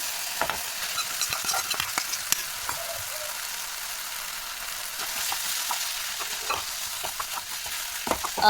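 Ground soya stirred and fried in oil gives a continuous high sizzle with soft scraping strokes from the stirring, close and fairly even, with no voices.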